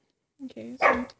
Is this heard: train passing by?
no